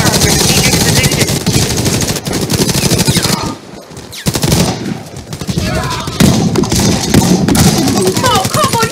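Rapid automatic gunfire in the shooter Warface, loud close bursts of machine-gun shots in a fast rhythm, briefly pausing midway before resuming, with game sounds mixed in.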